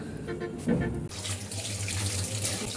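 Running tap water splashes into a sink as chopped vegetables are rinsed for a healthy chicken soup, a steady close rush that jumps louder after the first second and continues without talk.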